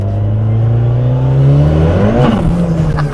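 A 560bhp mapped Ford Sierra Cosworth accelerating hard, its loud close engine note rising steadily in pitch, then dipping and climbing again on a gear change, with no talk over it.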